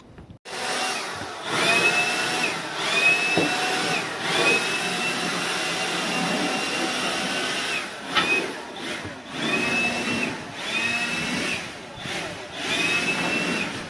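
Power blower running on a Kwila wood deck to clear sawdust, a loud steady whooshing roar that surges and dips in bursts with brief pauses over several seconds.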